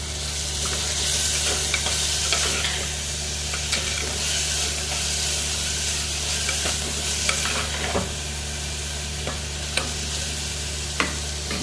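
Tomato, onion, green chilli and salt cooking in a pan: steady loud sizzle with spatula stirring scrapes and small ticks over a constant low hum, no talking.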